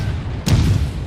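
A single heavy thump from torpedoes launched to port in a naval video game, one short booming burst over a low rumbling background.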